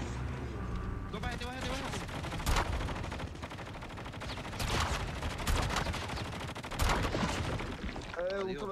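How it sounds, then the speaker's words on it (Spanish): Rapid bursts of gunfire crackle repeatedly, loud and dense, with game-like explosive bangs spread across the whole stretch. "yo escucho un disparo"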